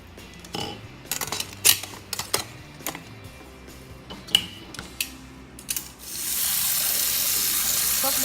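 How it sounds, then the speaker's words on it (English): Boiled eggs clink and knock into a kitchen sink among dishes, with scattered clatter, then a tap opens and water pours steadily and loudly at the end. "Put them in the water so they'll be easy to peel off."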